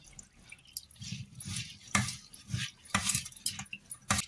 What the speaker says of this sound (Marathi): आता यांना पण चाळणीमध्ये धुवून घेऊया मग पाणी निघून जाईल सगळं